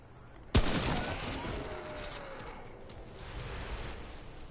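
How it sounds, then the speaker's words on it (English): A single sharp gunshot from a gun in the video game Remnant: From the Ashes, loud and close, followed by a long fading ring and soft ambient noise. "I can pretty much one-shot these guys with my gun"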